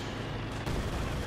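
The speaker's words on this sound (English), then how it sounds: "And it's machine guns." Dense, sustained machine-gun fire from a Company of Heroes 2 battle, a continuous rattling fusillade of rapid shots with a sharp burst of added gunfire midway, loud and close throughout.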